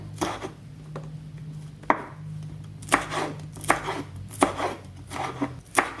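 A knife slices green chili diagonally on a cutting board, producing a series of crisp, close chopping strikes at an uneven, steady pace, with no voices.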